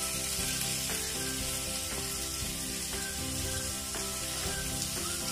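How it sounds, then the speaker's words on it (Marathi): Boiled eggs go into cooked masala in a pan, which gives a steady, soft sizzle and crackle of frying throughout, with no talking. "आता आपण अंडे घालूया मसाल्यात।"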